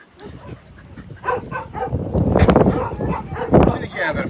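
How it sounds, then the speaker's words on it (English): Two abandoned puppies found on a road give soft yips and whimpers in short bursts, heard close and under excited talking by several people. "Look at those puppies."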